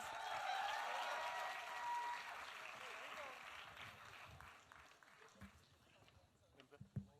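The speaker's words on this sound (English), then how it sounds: "Big round of applause," An audience gives a round of applause at the Calling Karan Season 2 event with a host and guests, faint clapping that thins out partway through, followed by scattered handling noises and a few voices.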